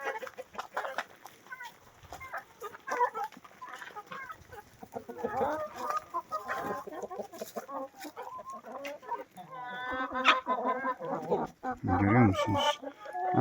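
Chickens cluck and chatter close by as they follow a farmer out to graze on green grass after rain, with overlapping calls throughout and some talk mixed in.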